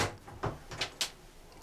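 A hanging drawer aboard a converted 1938 German navy vessel, now a 24 m Lürssen yacht, slides and knocks in a few short close wooden bumps and clicks, with quiet gaps between them.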